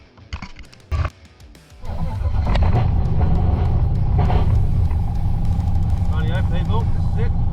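Holden VN Calais engine on its first start after a fuel pump problem: a few short cranking bursts, then the engine catches and settles into a loud, steady, rumbling idle close by.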